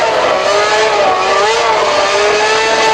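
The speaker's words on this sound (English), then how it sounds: "Here comes the first Ferrari in for a pit stop." A Ferrari Formula 1 car, Gerhard Berger's, at the 1995 Italian Grand Prix at Monza, whines loud and steady as it comes into the pit lane, its high engine note gliding slightly down and up throughout.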